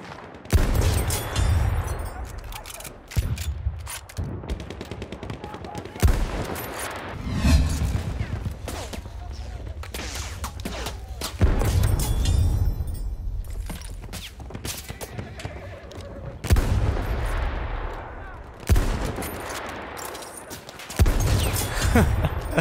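Gunfire in the Battlefield 1 video game, loud bursts and rapid volleys with neighing horses and clip-clopping hooves in the mix, rising and falling in waves.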